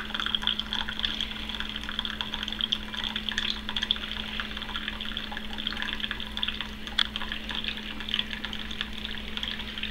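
A cinnamon-colored Keurig coffee maker brews into a cup using a refillable EZ Cup filter, a faint, steady trickling and dribbling of liquid over a low mechanical hum.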